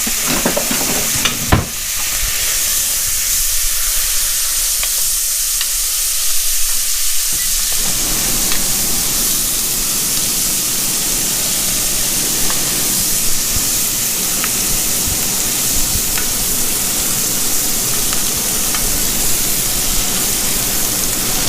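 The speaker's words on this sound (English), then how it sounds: "We're going to saute those onions in with the butter." A whole sliced yellow onion sautés in melted butter in a cast iron pan, giving a loud, dense, steady sizzle close up, briefly quieter near the start before settling into continuous frying.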